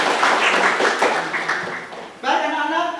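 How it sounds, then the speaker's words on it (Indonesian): Schoolchildren in a classroom clapping together at a teacher's prompt, a short burst of scattered applause that fades before a voice starts talking. "beri tepuk tangan buat kita semua"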